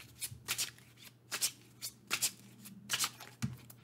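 A deck of tarot cards being shuffled by hand, with repeated crisp riffling bursts and soft slaps in an irregular rhythm, close and fairly quiet, with no speech over it.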